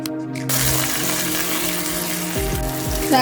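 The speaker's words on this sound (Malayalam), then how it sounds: "ഈ തക്കാളിയും കൂടി വഴന്ന് വരട്ടെ." Onions and tomatoes sautéing in a pan for a coconut-milk chicken curry give a steady, close, broadband sizzle that runs the whole stretch with no talk over it.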